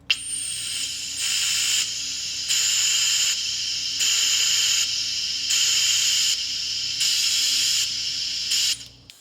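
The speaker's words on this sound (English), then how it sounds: "The chuff-chuff of the steam engine piston sounds pretty good." Electronic hissing pulses from a Whadda steam engine sound kit in an even rhythm, like a steam engine's chuff, loud and close, about seven bursts that swell and ease without stopping.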